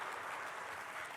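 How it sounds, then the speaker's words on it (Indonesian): Steady, even audience applause at the official opening of an Indonesian trade expo, honoring the Minister of Trade; a continuous wash of clapping, fairly faint and distant, with no speech over it. "Boleh tepuk tangan untuk Menteri Perdagangan dan untuk Indonesia."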